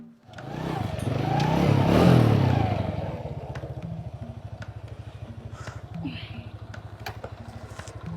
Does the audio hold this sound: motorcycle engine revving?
yes